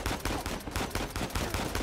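Rapid automatic rifle fire from the video game Uncharted 4 rattles in a dense, loud, continuous stream of shots with no talk over it.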